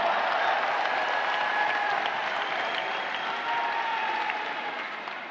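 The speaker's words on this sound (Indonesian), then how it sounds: "Beri tepuk tangan untuk seluruh jajaran Amanat Indonesia" Audience applause at an Indonesian political gathering, a steady broad wash of clapping from a large crowd that holds for several seconds and tapers slightly at the end.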